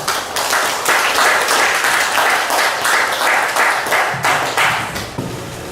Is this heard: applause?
yes